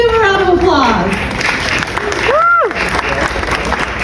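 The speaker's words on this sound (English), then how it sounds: "Let's give him a round of applause." Audience applause greets a musician as he comes out, a dense, steady wash of clapping and crowd noise with voices and a whoop or cheer rising through it.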